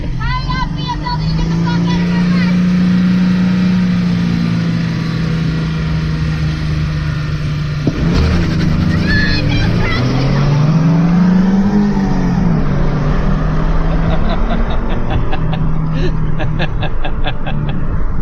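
A Chevrolet Camaro drives on a wet road, its engine revving and droning while tyres hiss on the wet surface, with a shift partway through and someone talking throughout.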